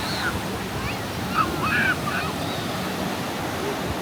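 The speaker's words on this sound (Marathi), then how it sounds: "लाटांचा तुम्हाला आवाज येत असेल जास्त." Ocean surf washing onto a beach in Goa, a steady continuous roar with wind noise and a brief swell in the middle, no talk.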